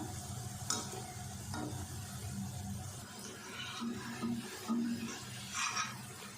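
Moong dal pakoras deep frying over medium heat: oil sizzles and bubbles steadily, with occasional clinks and stirring sounds from a utensil in the pan.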